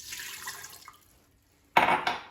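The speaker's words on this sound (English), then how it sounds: "I'm going to add 1 cup of water." A cup of water is poured into an Instant Pot in a short, splashy pour close by, coming after a brief quiet pause that follows a faint clink.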